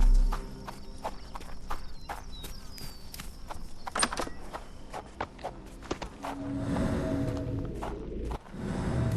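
Horse hooves clip-clop at a walking pace in the video game Sherlock Holmes: The Awakened, with a steady run of close, distinct knocks over a quiet ambient background, fading into a softer rumble near the end.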